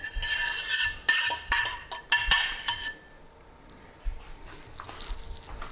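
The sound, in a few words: shredded pork ragu being put back into the pot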